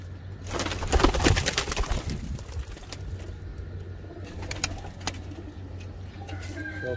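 Pigeons, a Kamangar female and a golden male, cooing in crates before shipment, with steady soft coos and occasional rustling at close range and no talk.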